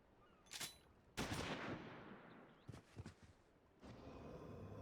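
Bursts of gunfire ring out in the MMO Final Fantasy XIV: several sharp, bright cracks, with one loud blast followed by a decaying tail and a cluster of quicker shots, all fairly faint and without talk.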